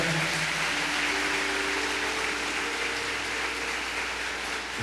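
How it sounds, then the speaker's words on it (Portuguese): Sustained applause from a church congregation for the Lord, a dense, even wash of many hands clapping with no talk over it. "Você pode dar um grande aplauso ao Senhor pela sua palavra"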